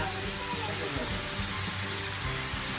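Vegetables and bean sprouts stir-fried for yakisoba give a steady, close sizzling hiss with low clatter underneath, while someone talks over the cooking.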